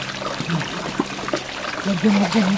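Drinking water is poured in a thin, close trickle that runs steadily for a few seconds beneath people talking.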